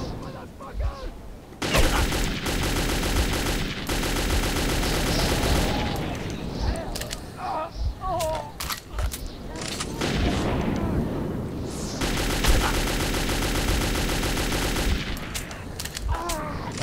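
Gunfire in the Metro 2033 video game crackles in dense, rapid bursts and volleys over a rumbling background. The shots come loud and close, with brief pauses between exchanges.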